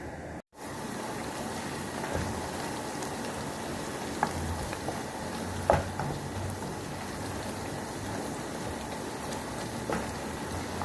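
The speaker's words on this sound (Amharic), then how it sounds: "ሽንኩርቱ በእንደዚህ ሁኔታ ሲበስል" Chopped onions fry in a pan for a fish-and-rice dish, giving a steady close crackling sizzle that runs without a break, apart from one brief dropout near the start. No one talks.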